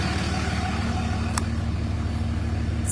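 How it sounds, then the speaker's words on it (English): A 2003 Ram pickup with a Cummins 5.9L diesel runs at a steady idle nearby, its low, even rumble holding without revving or pauses. "we're gonna take a final look at how the truck is running."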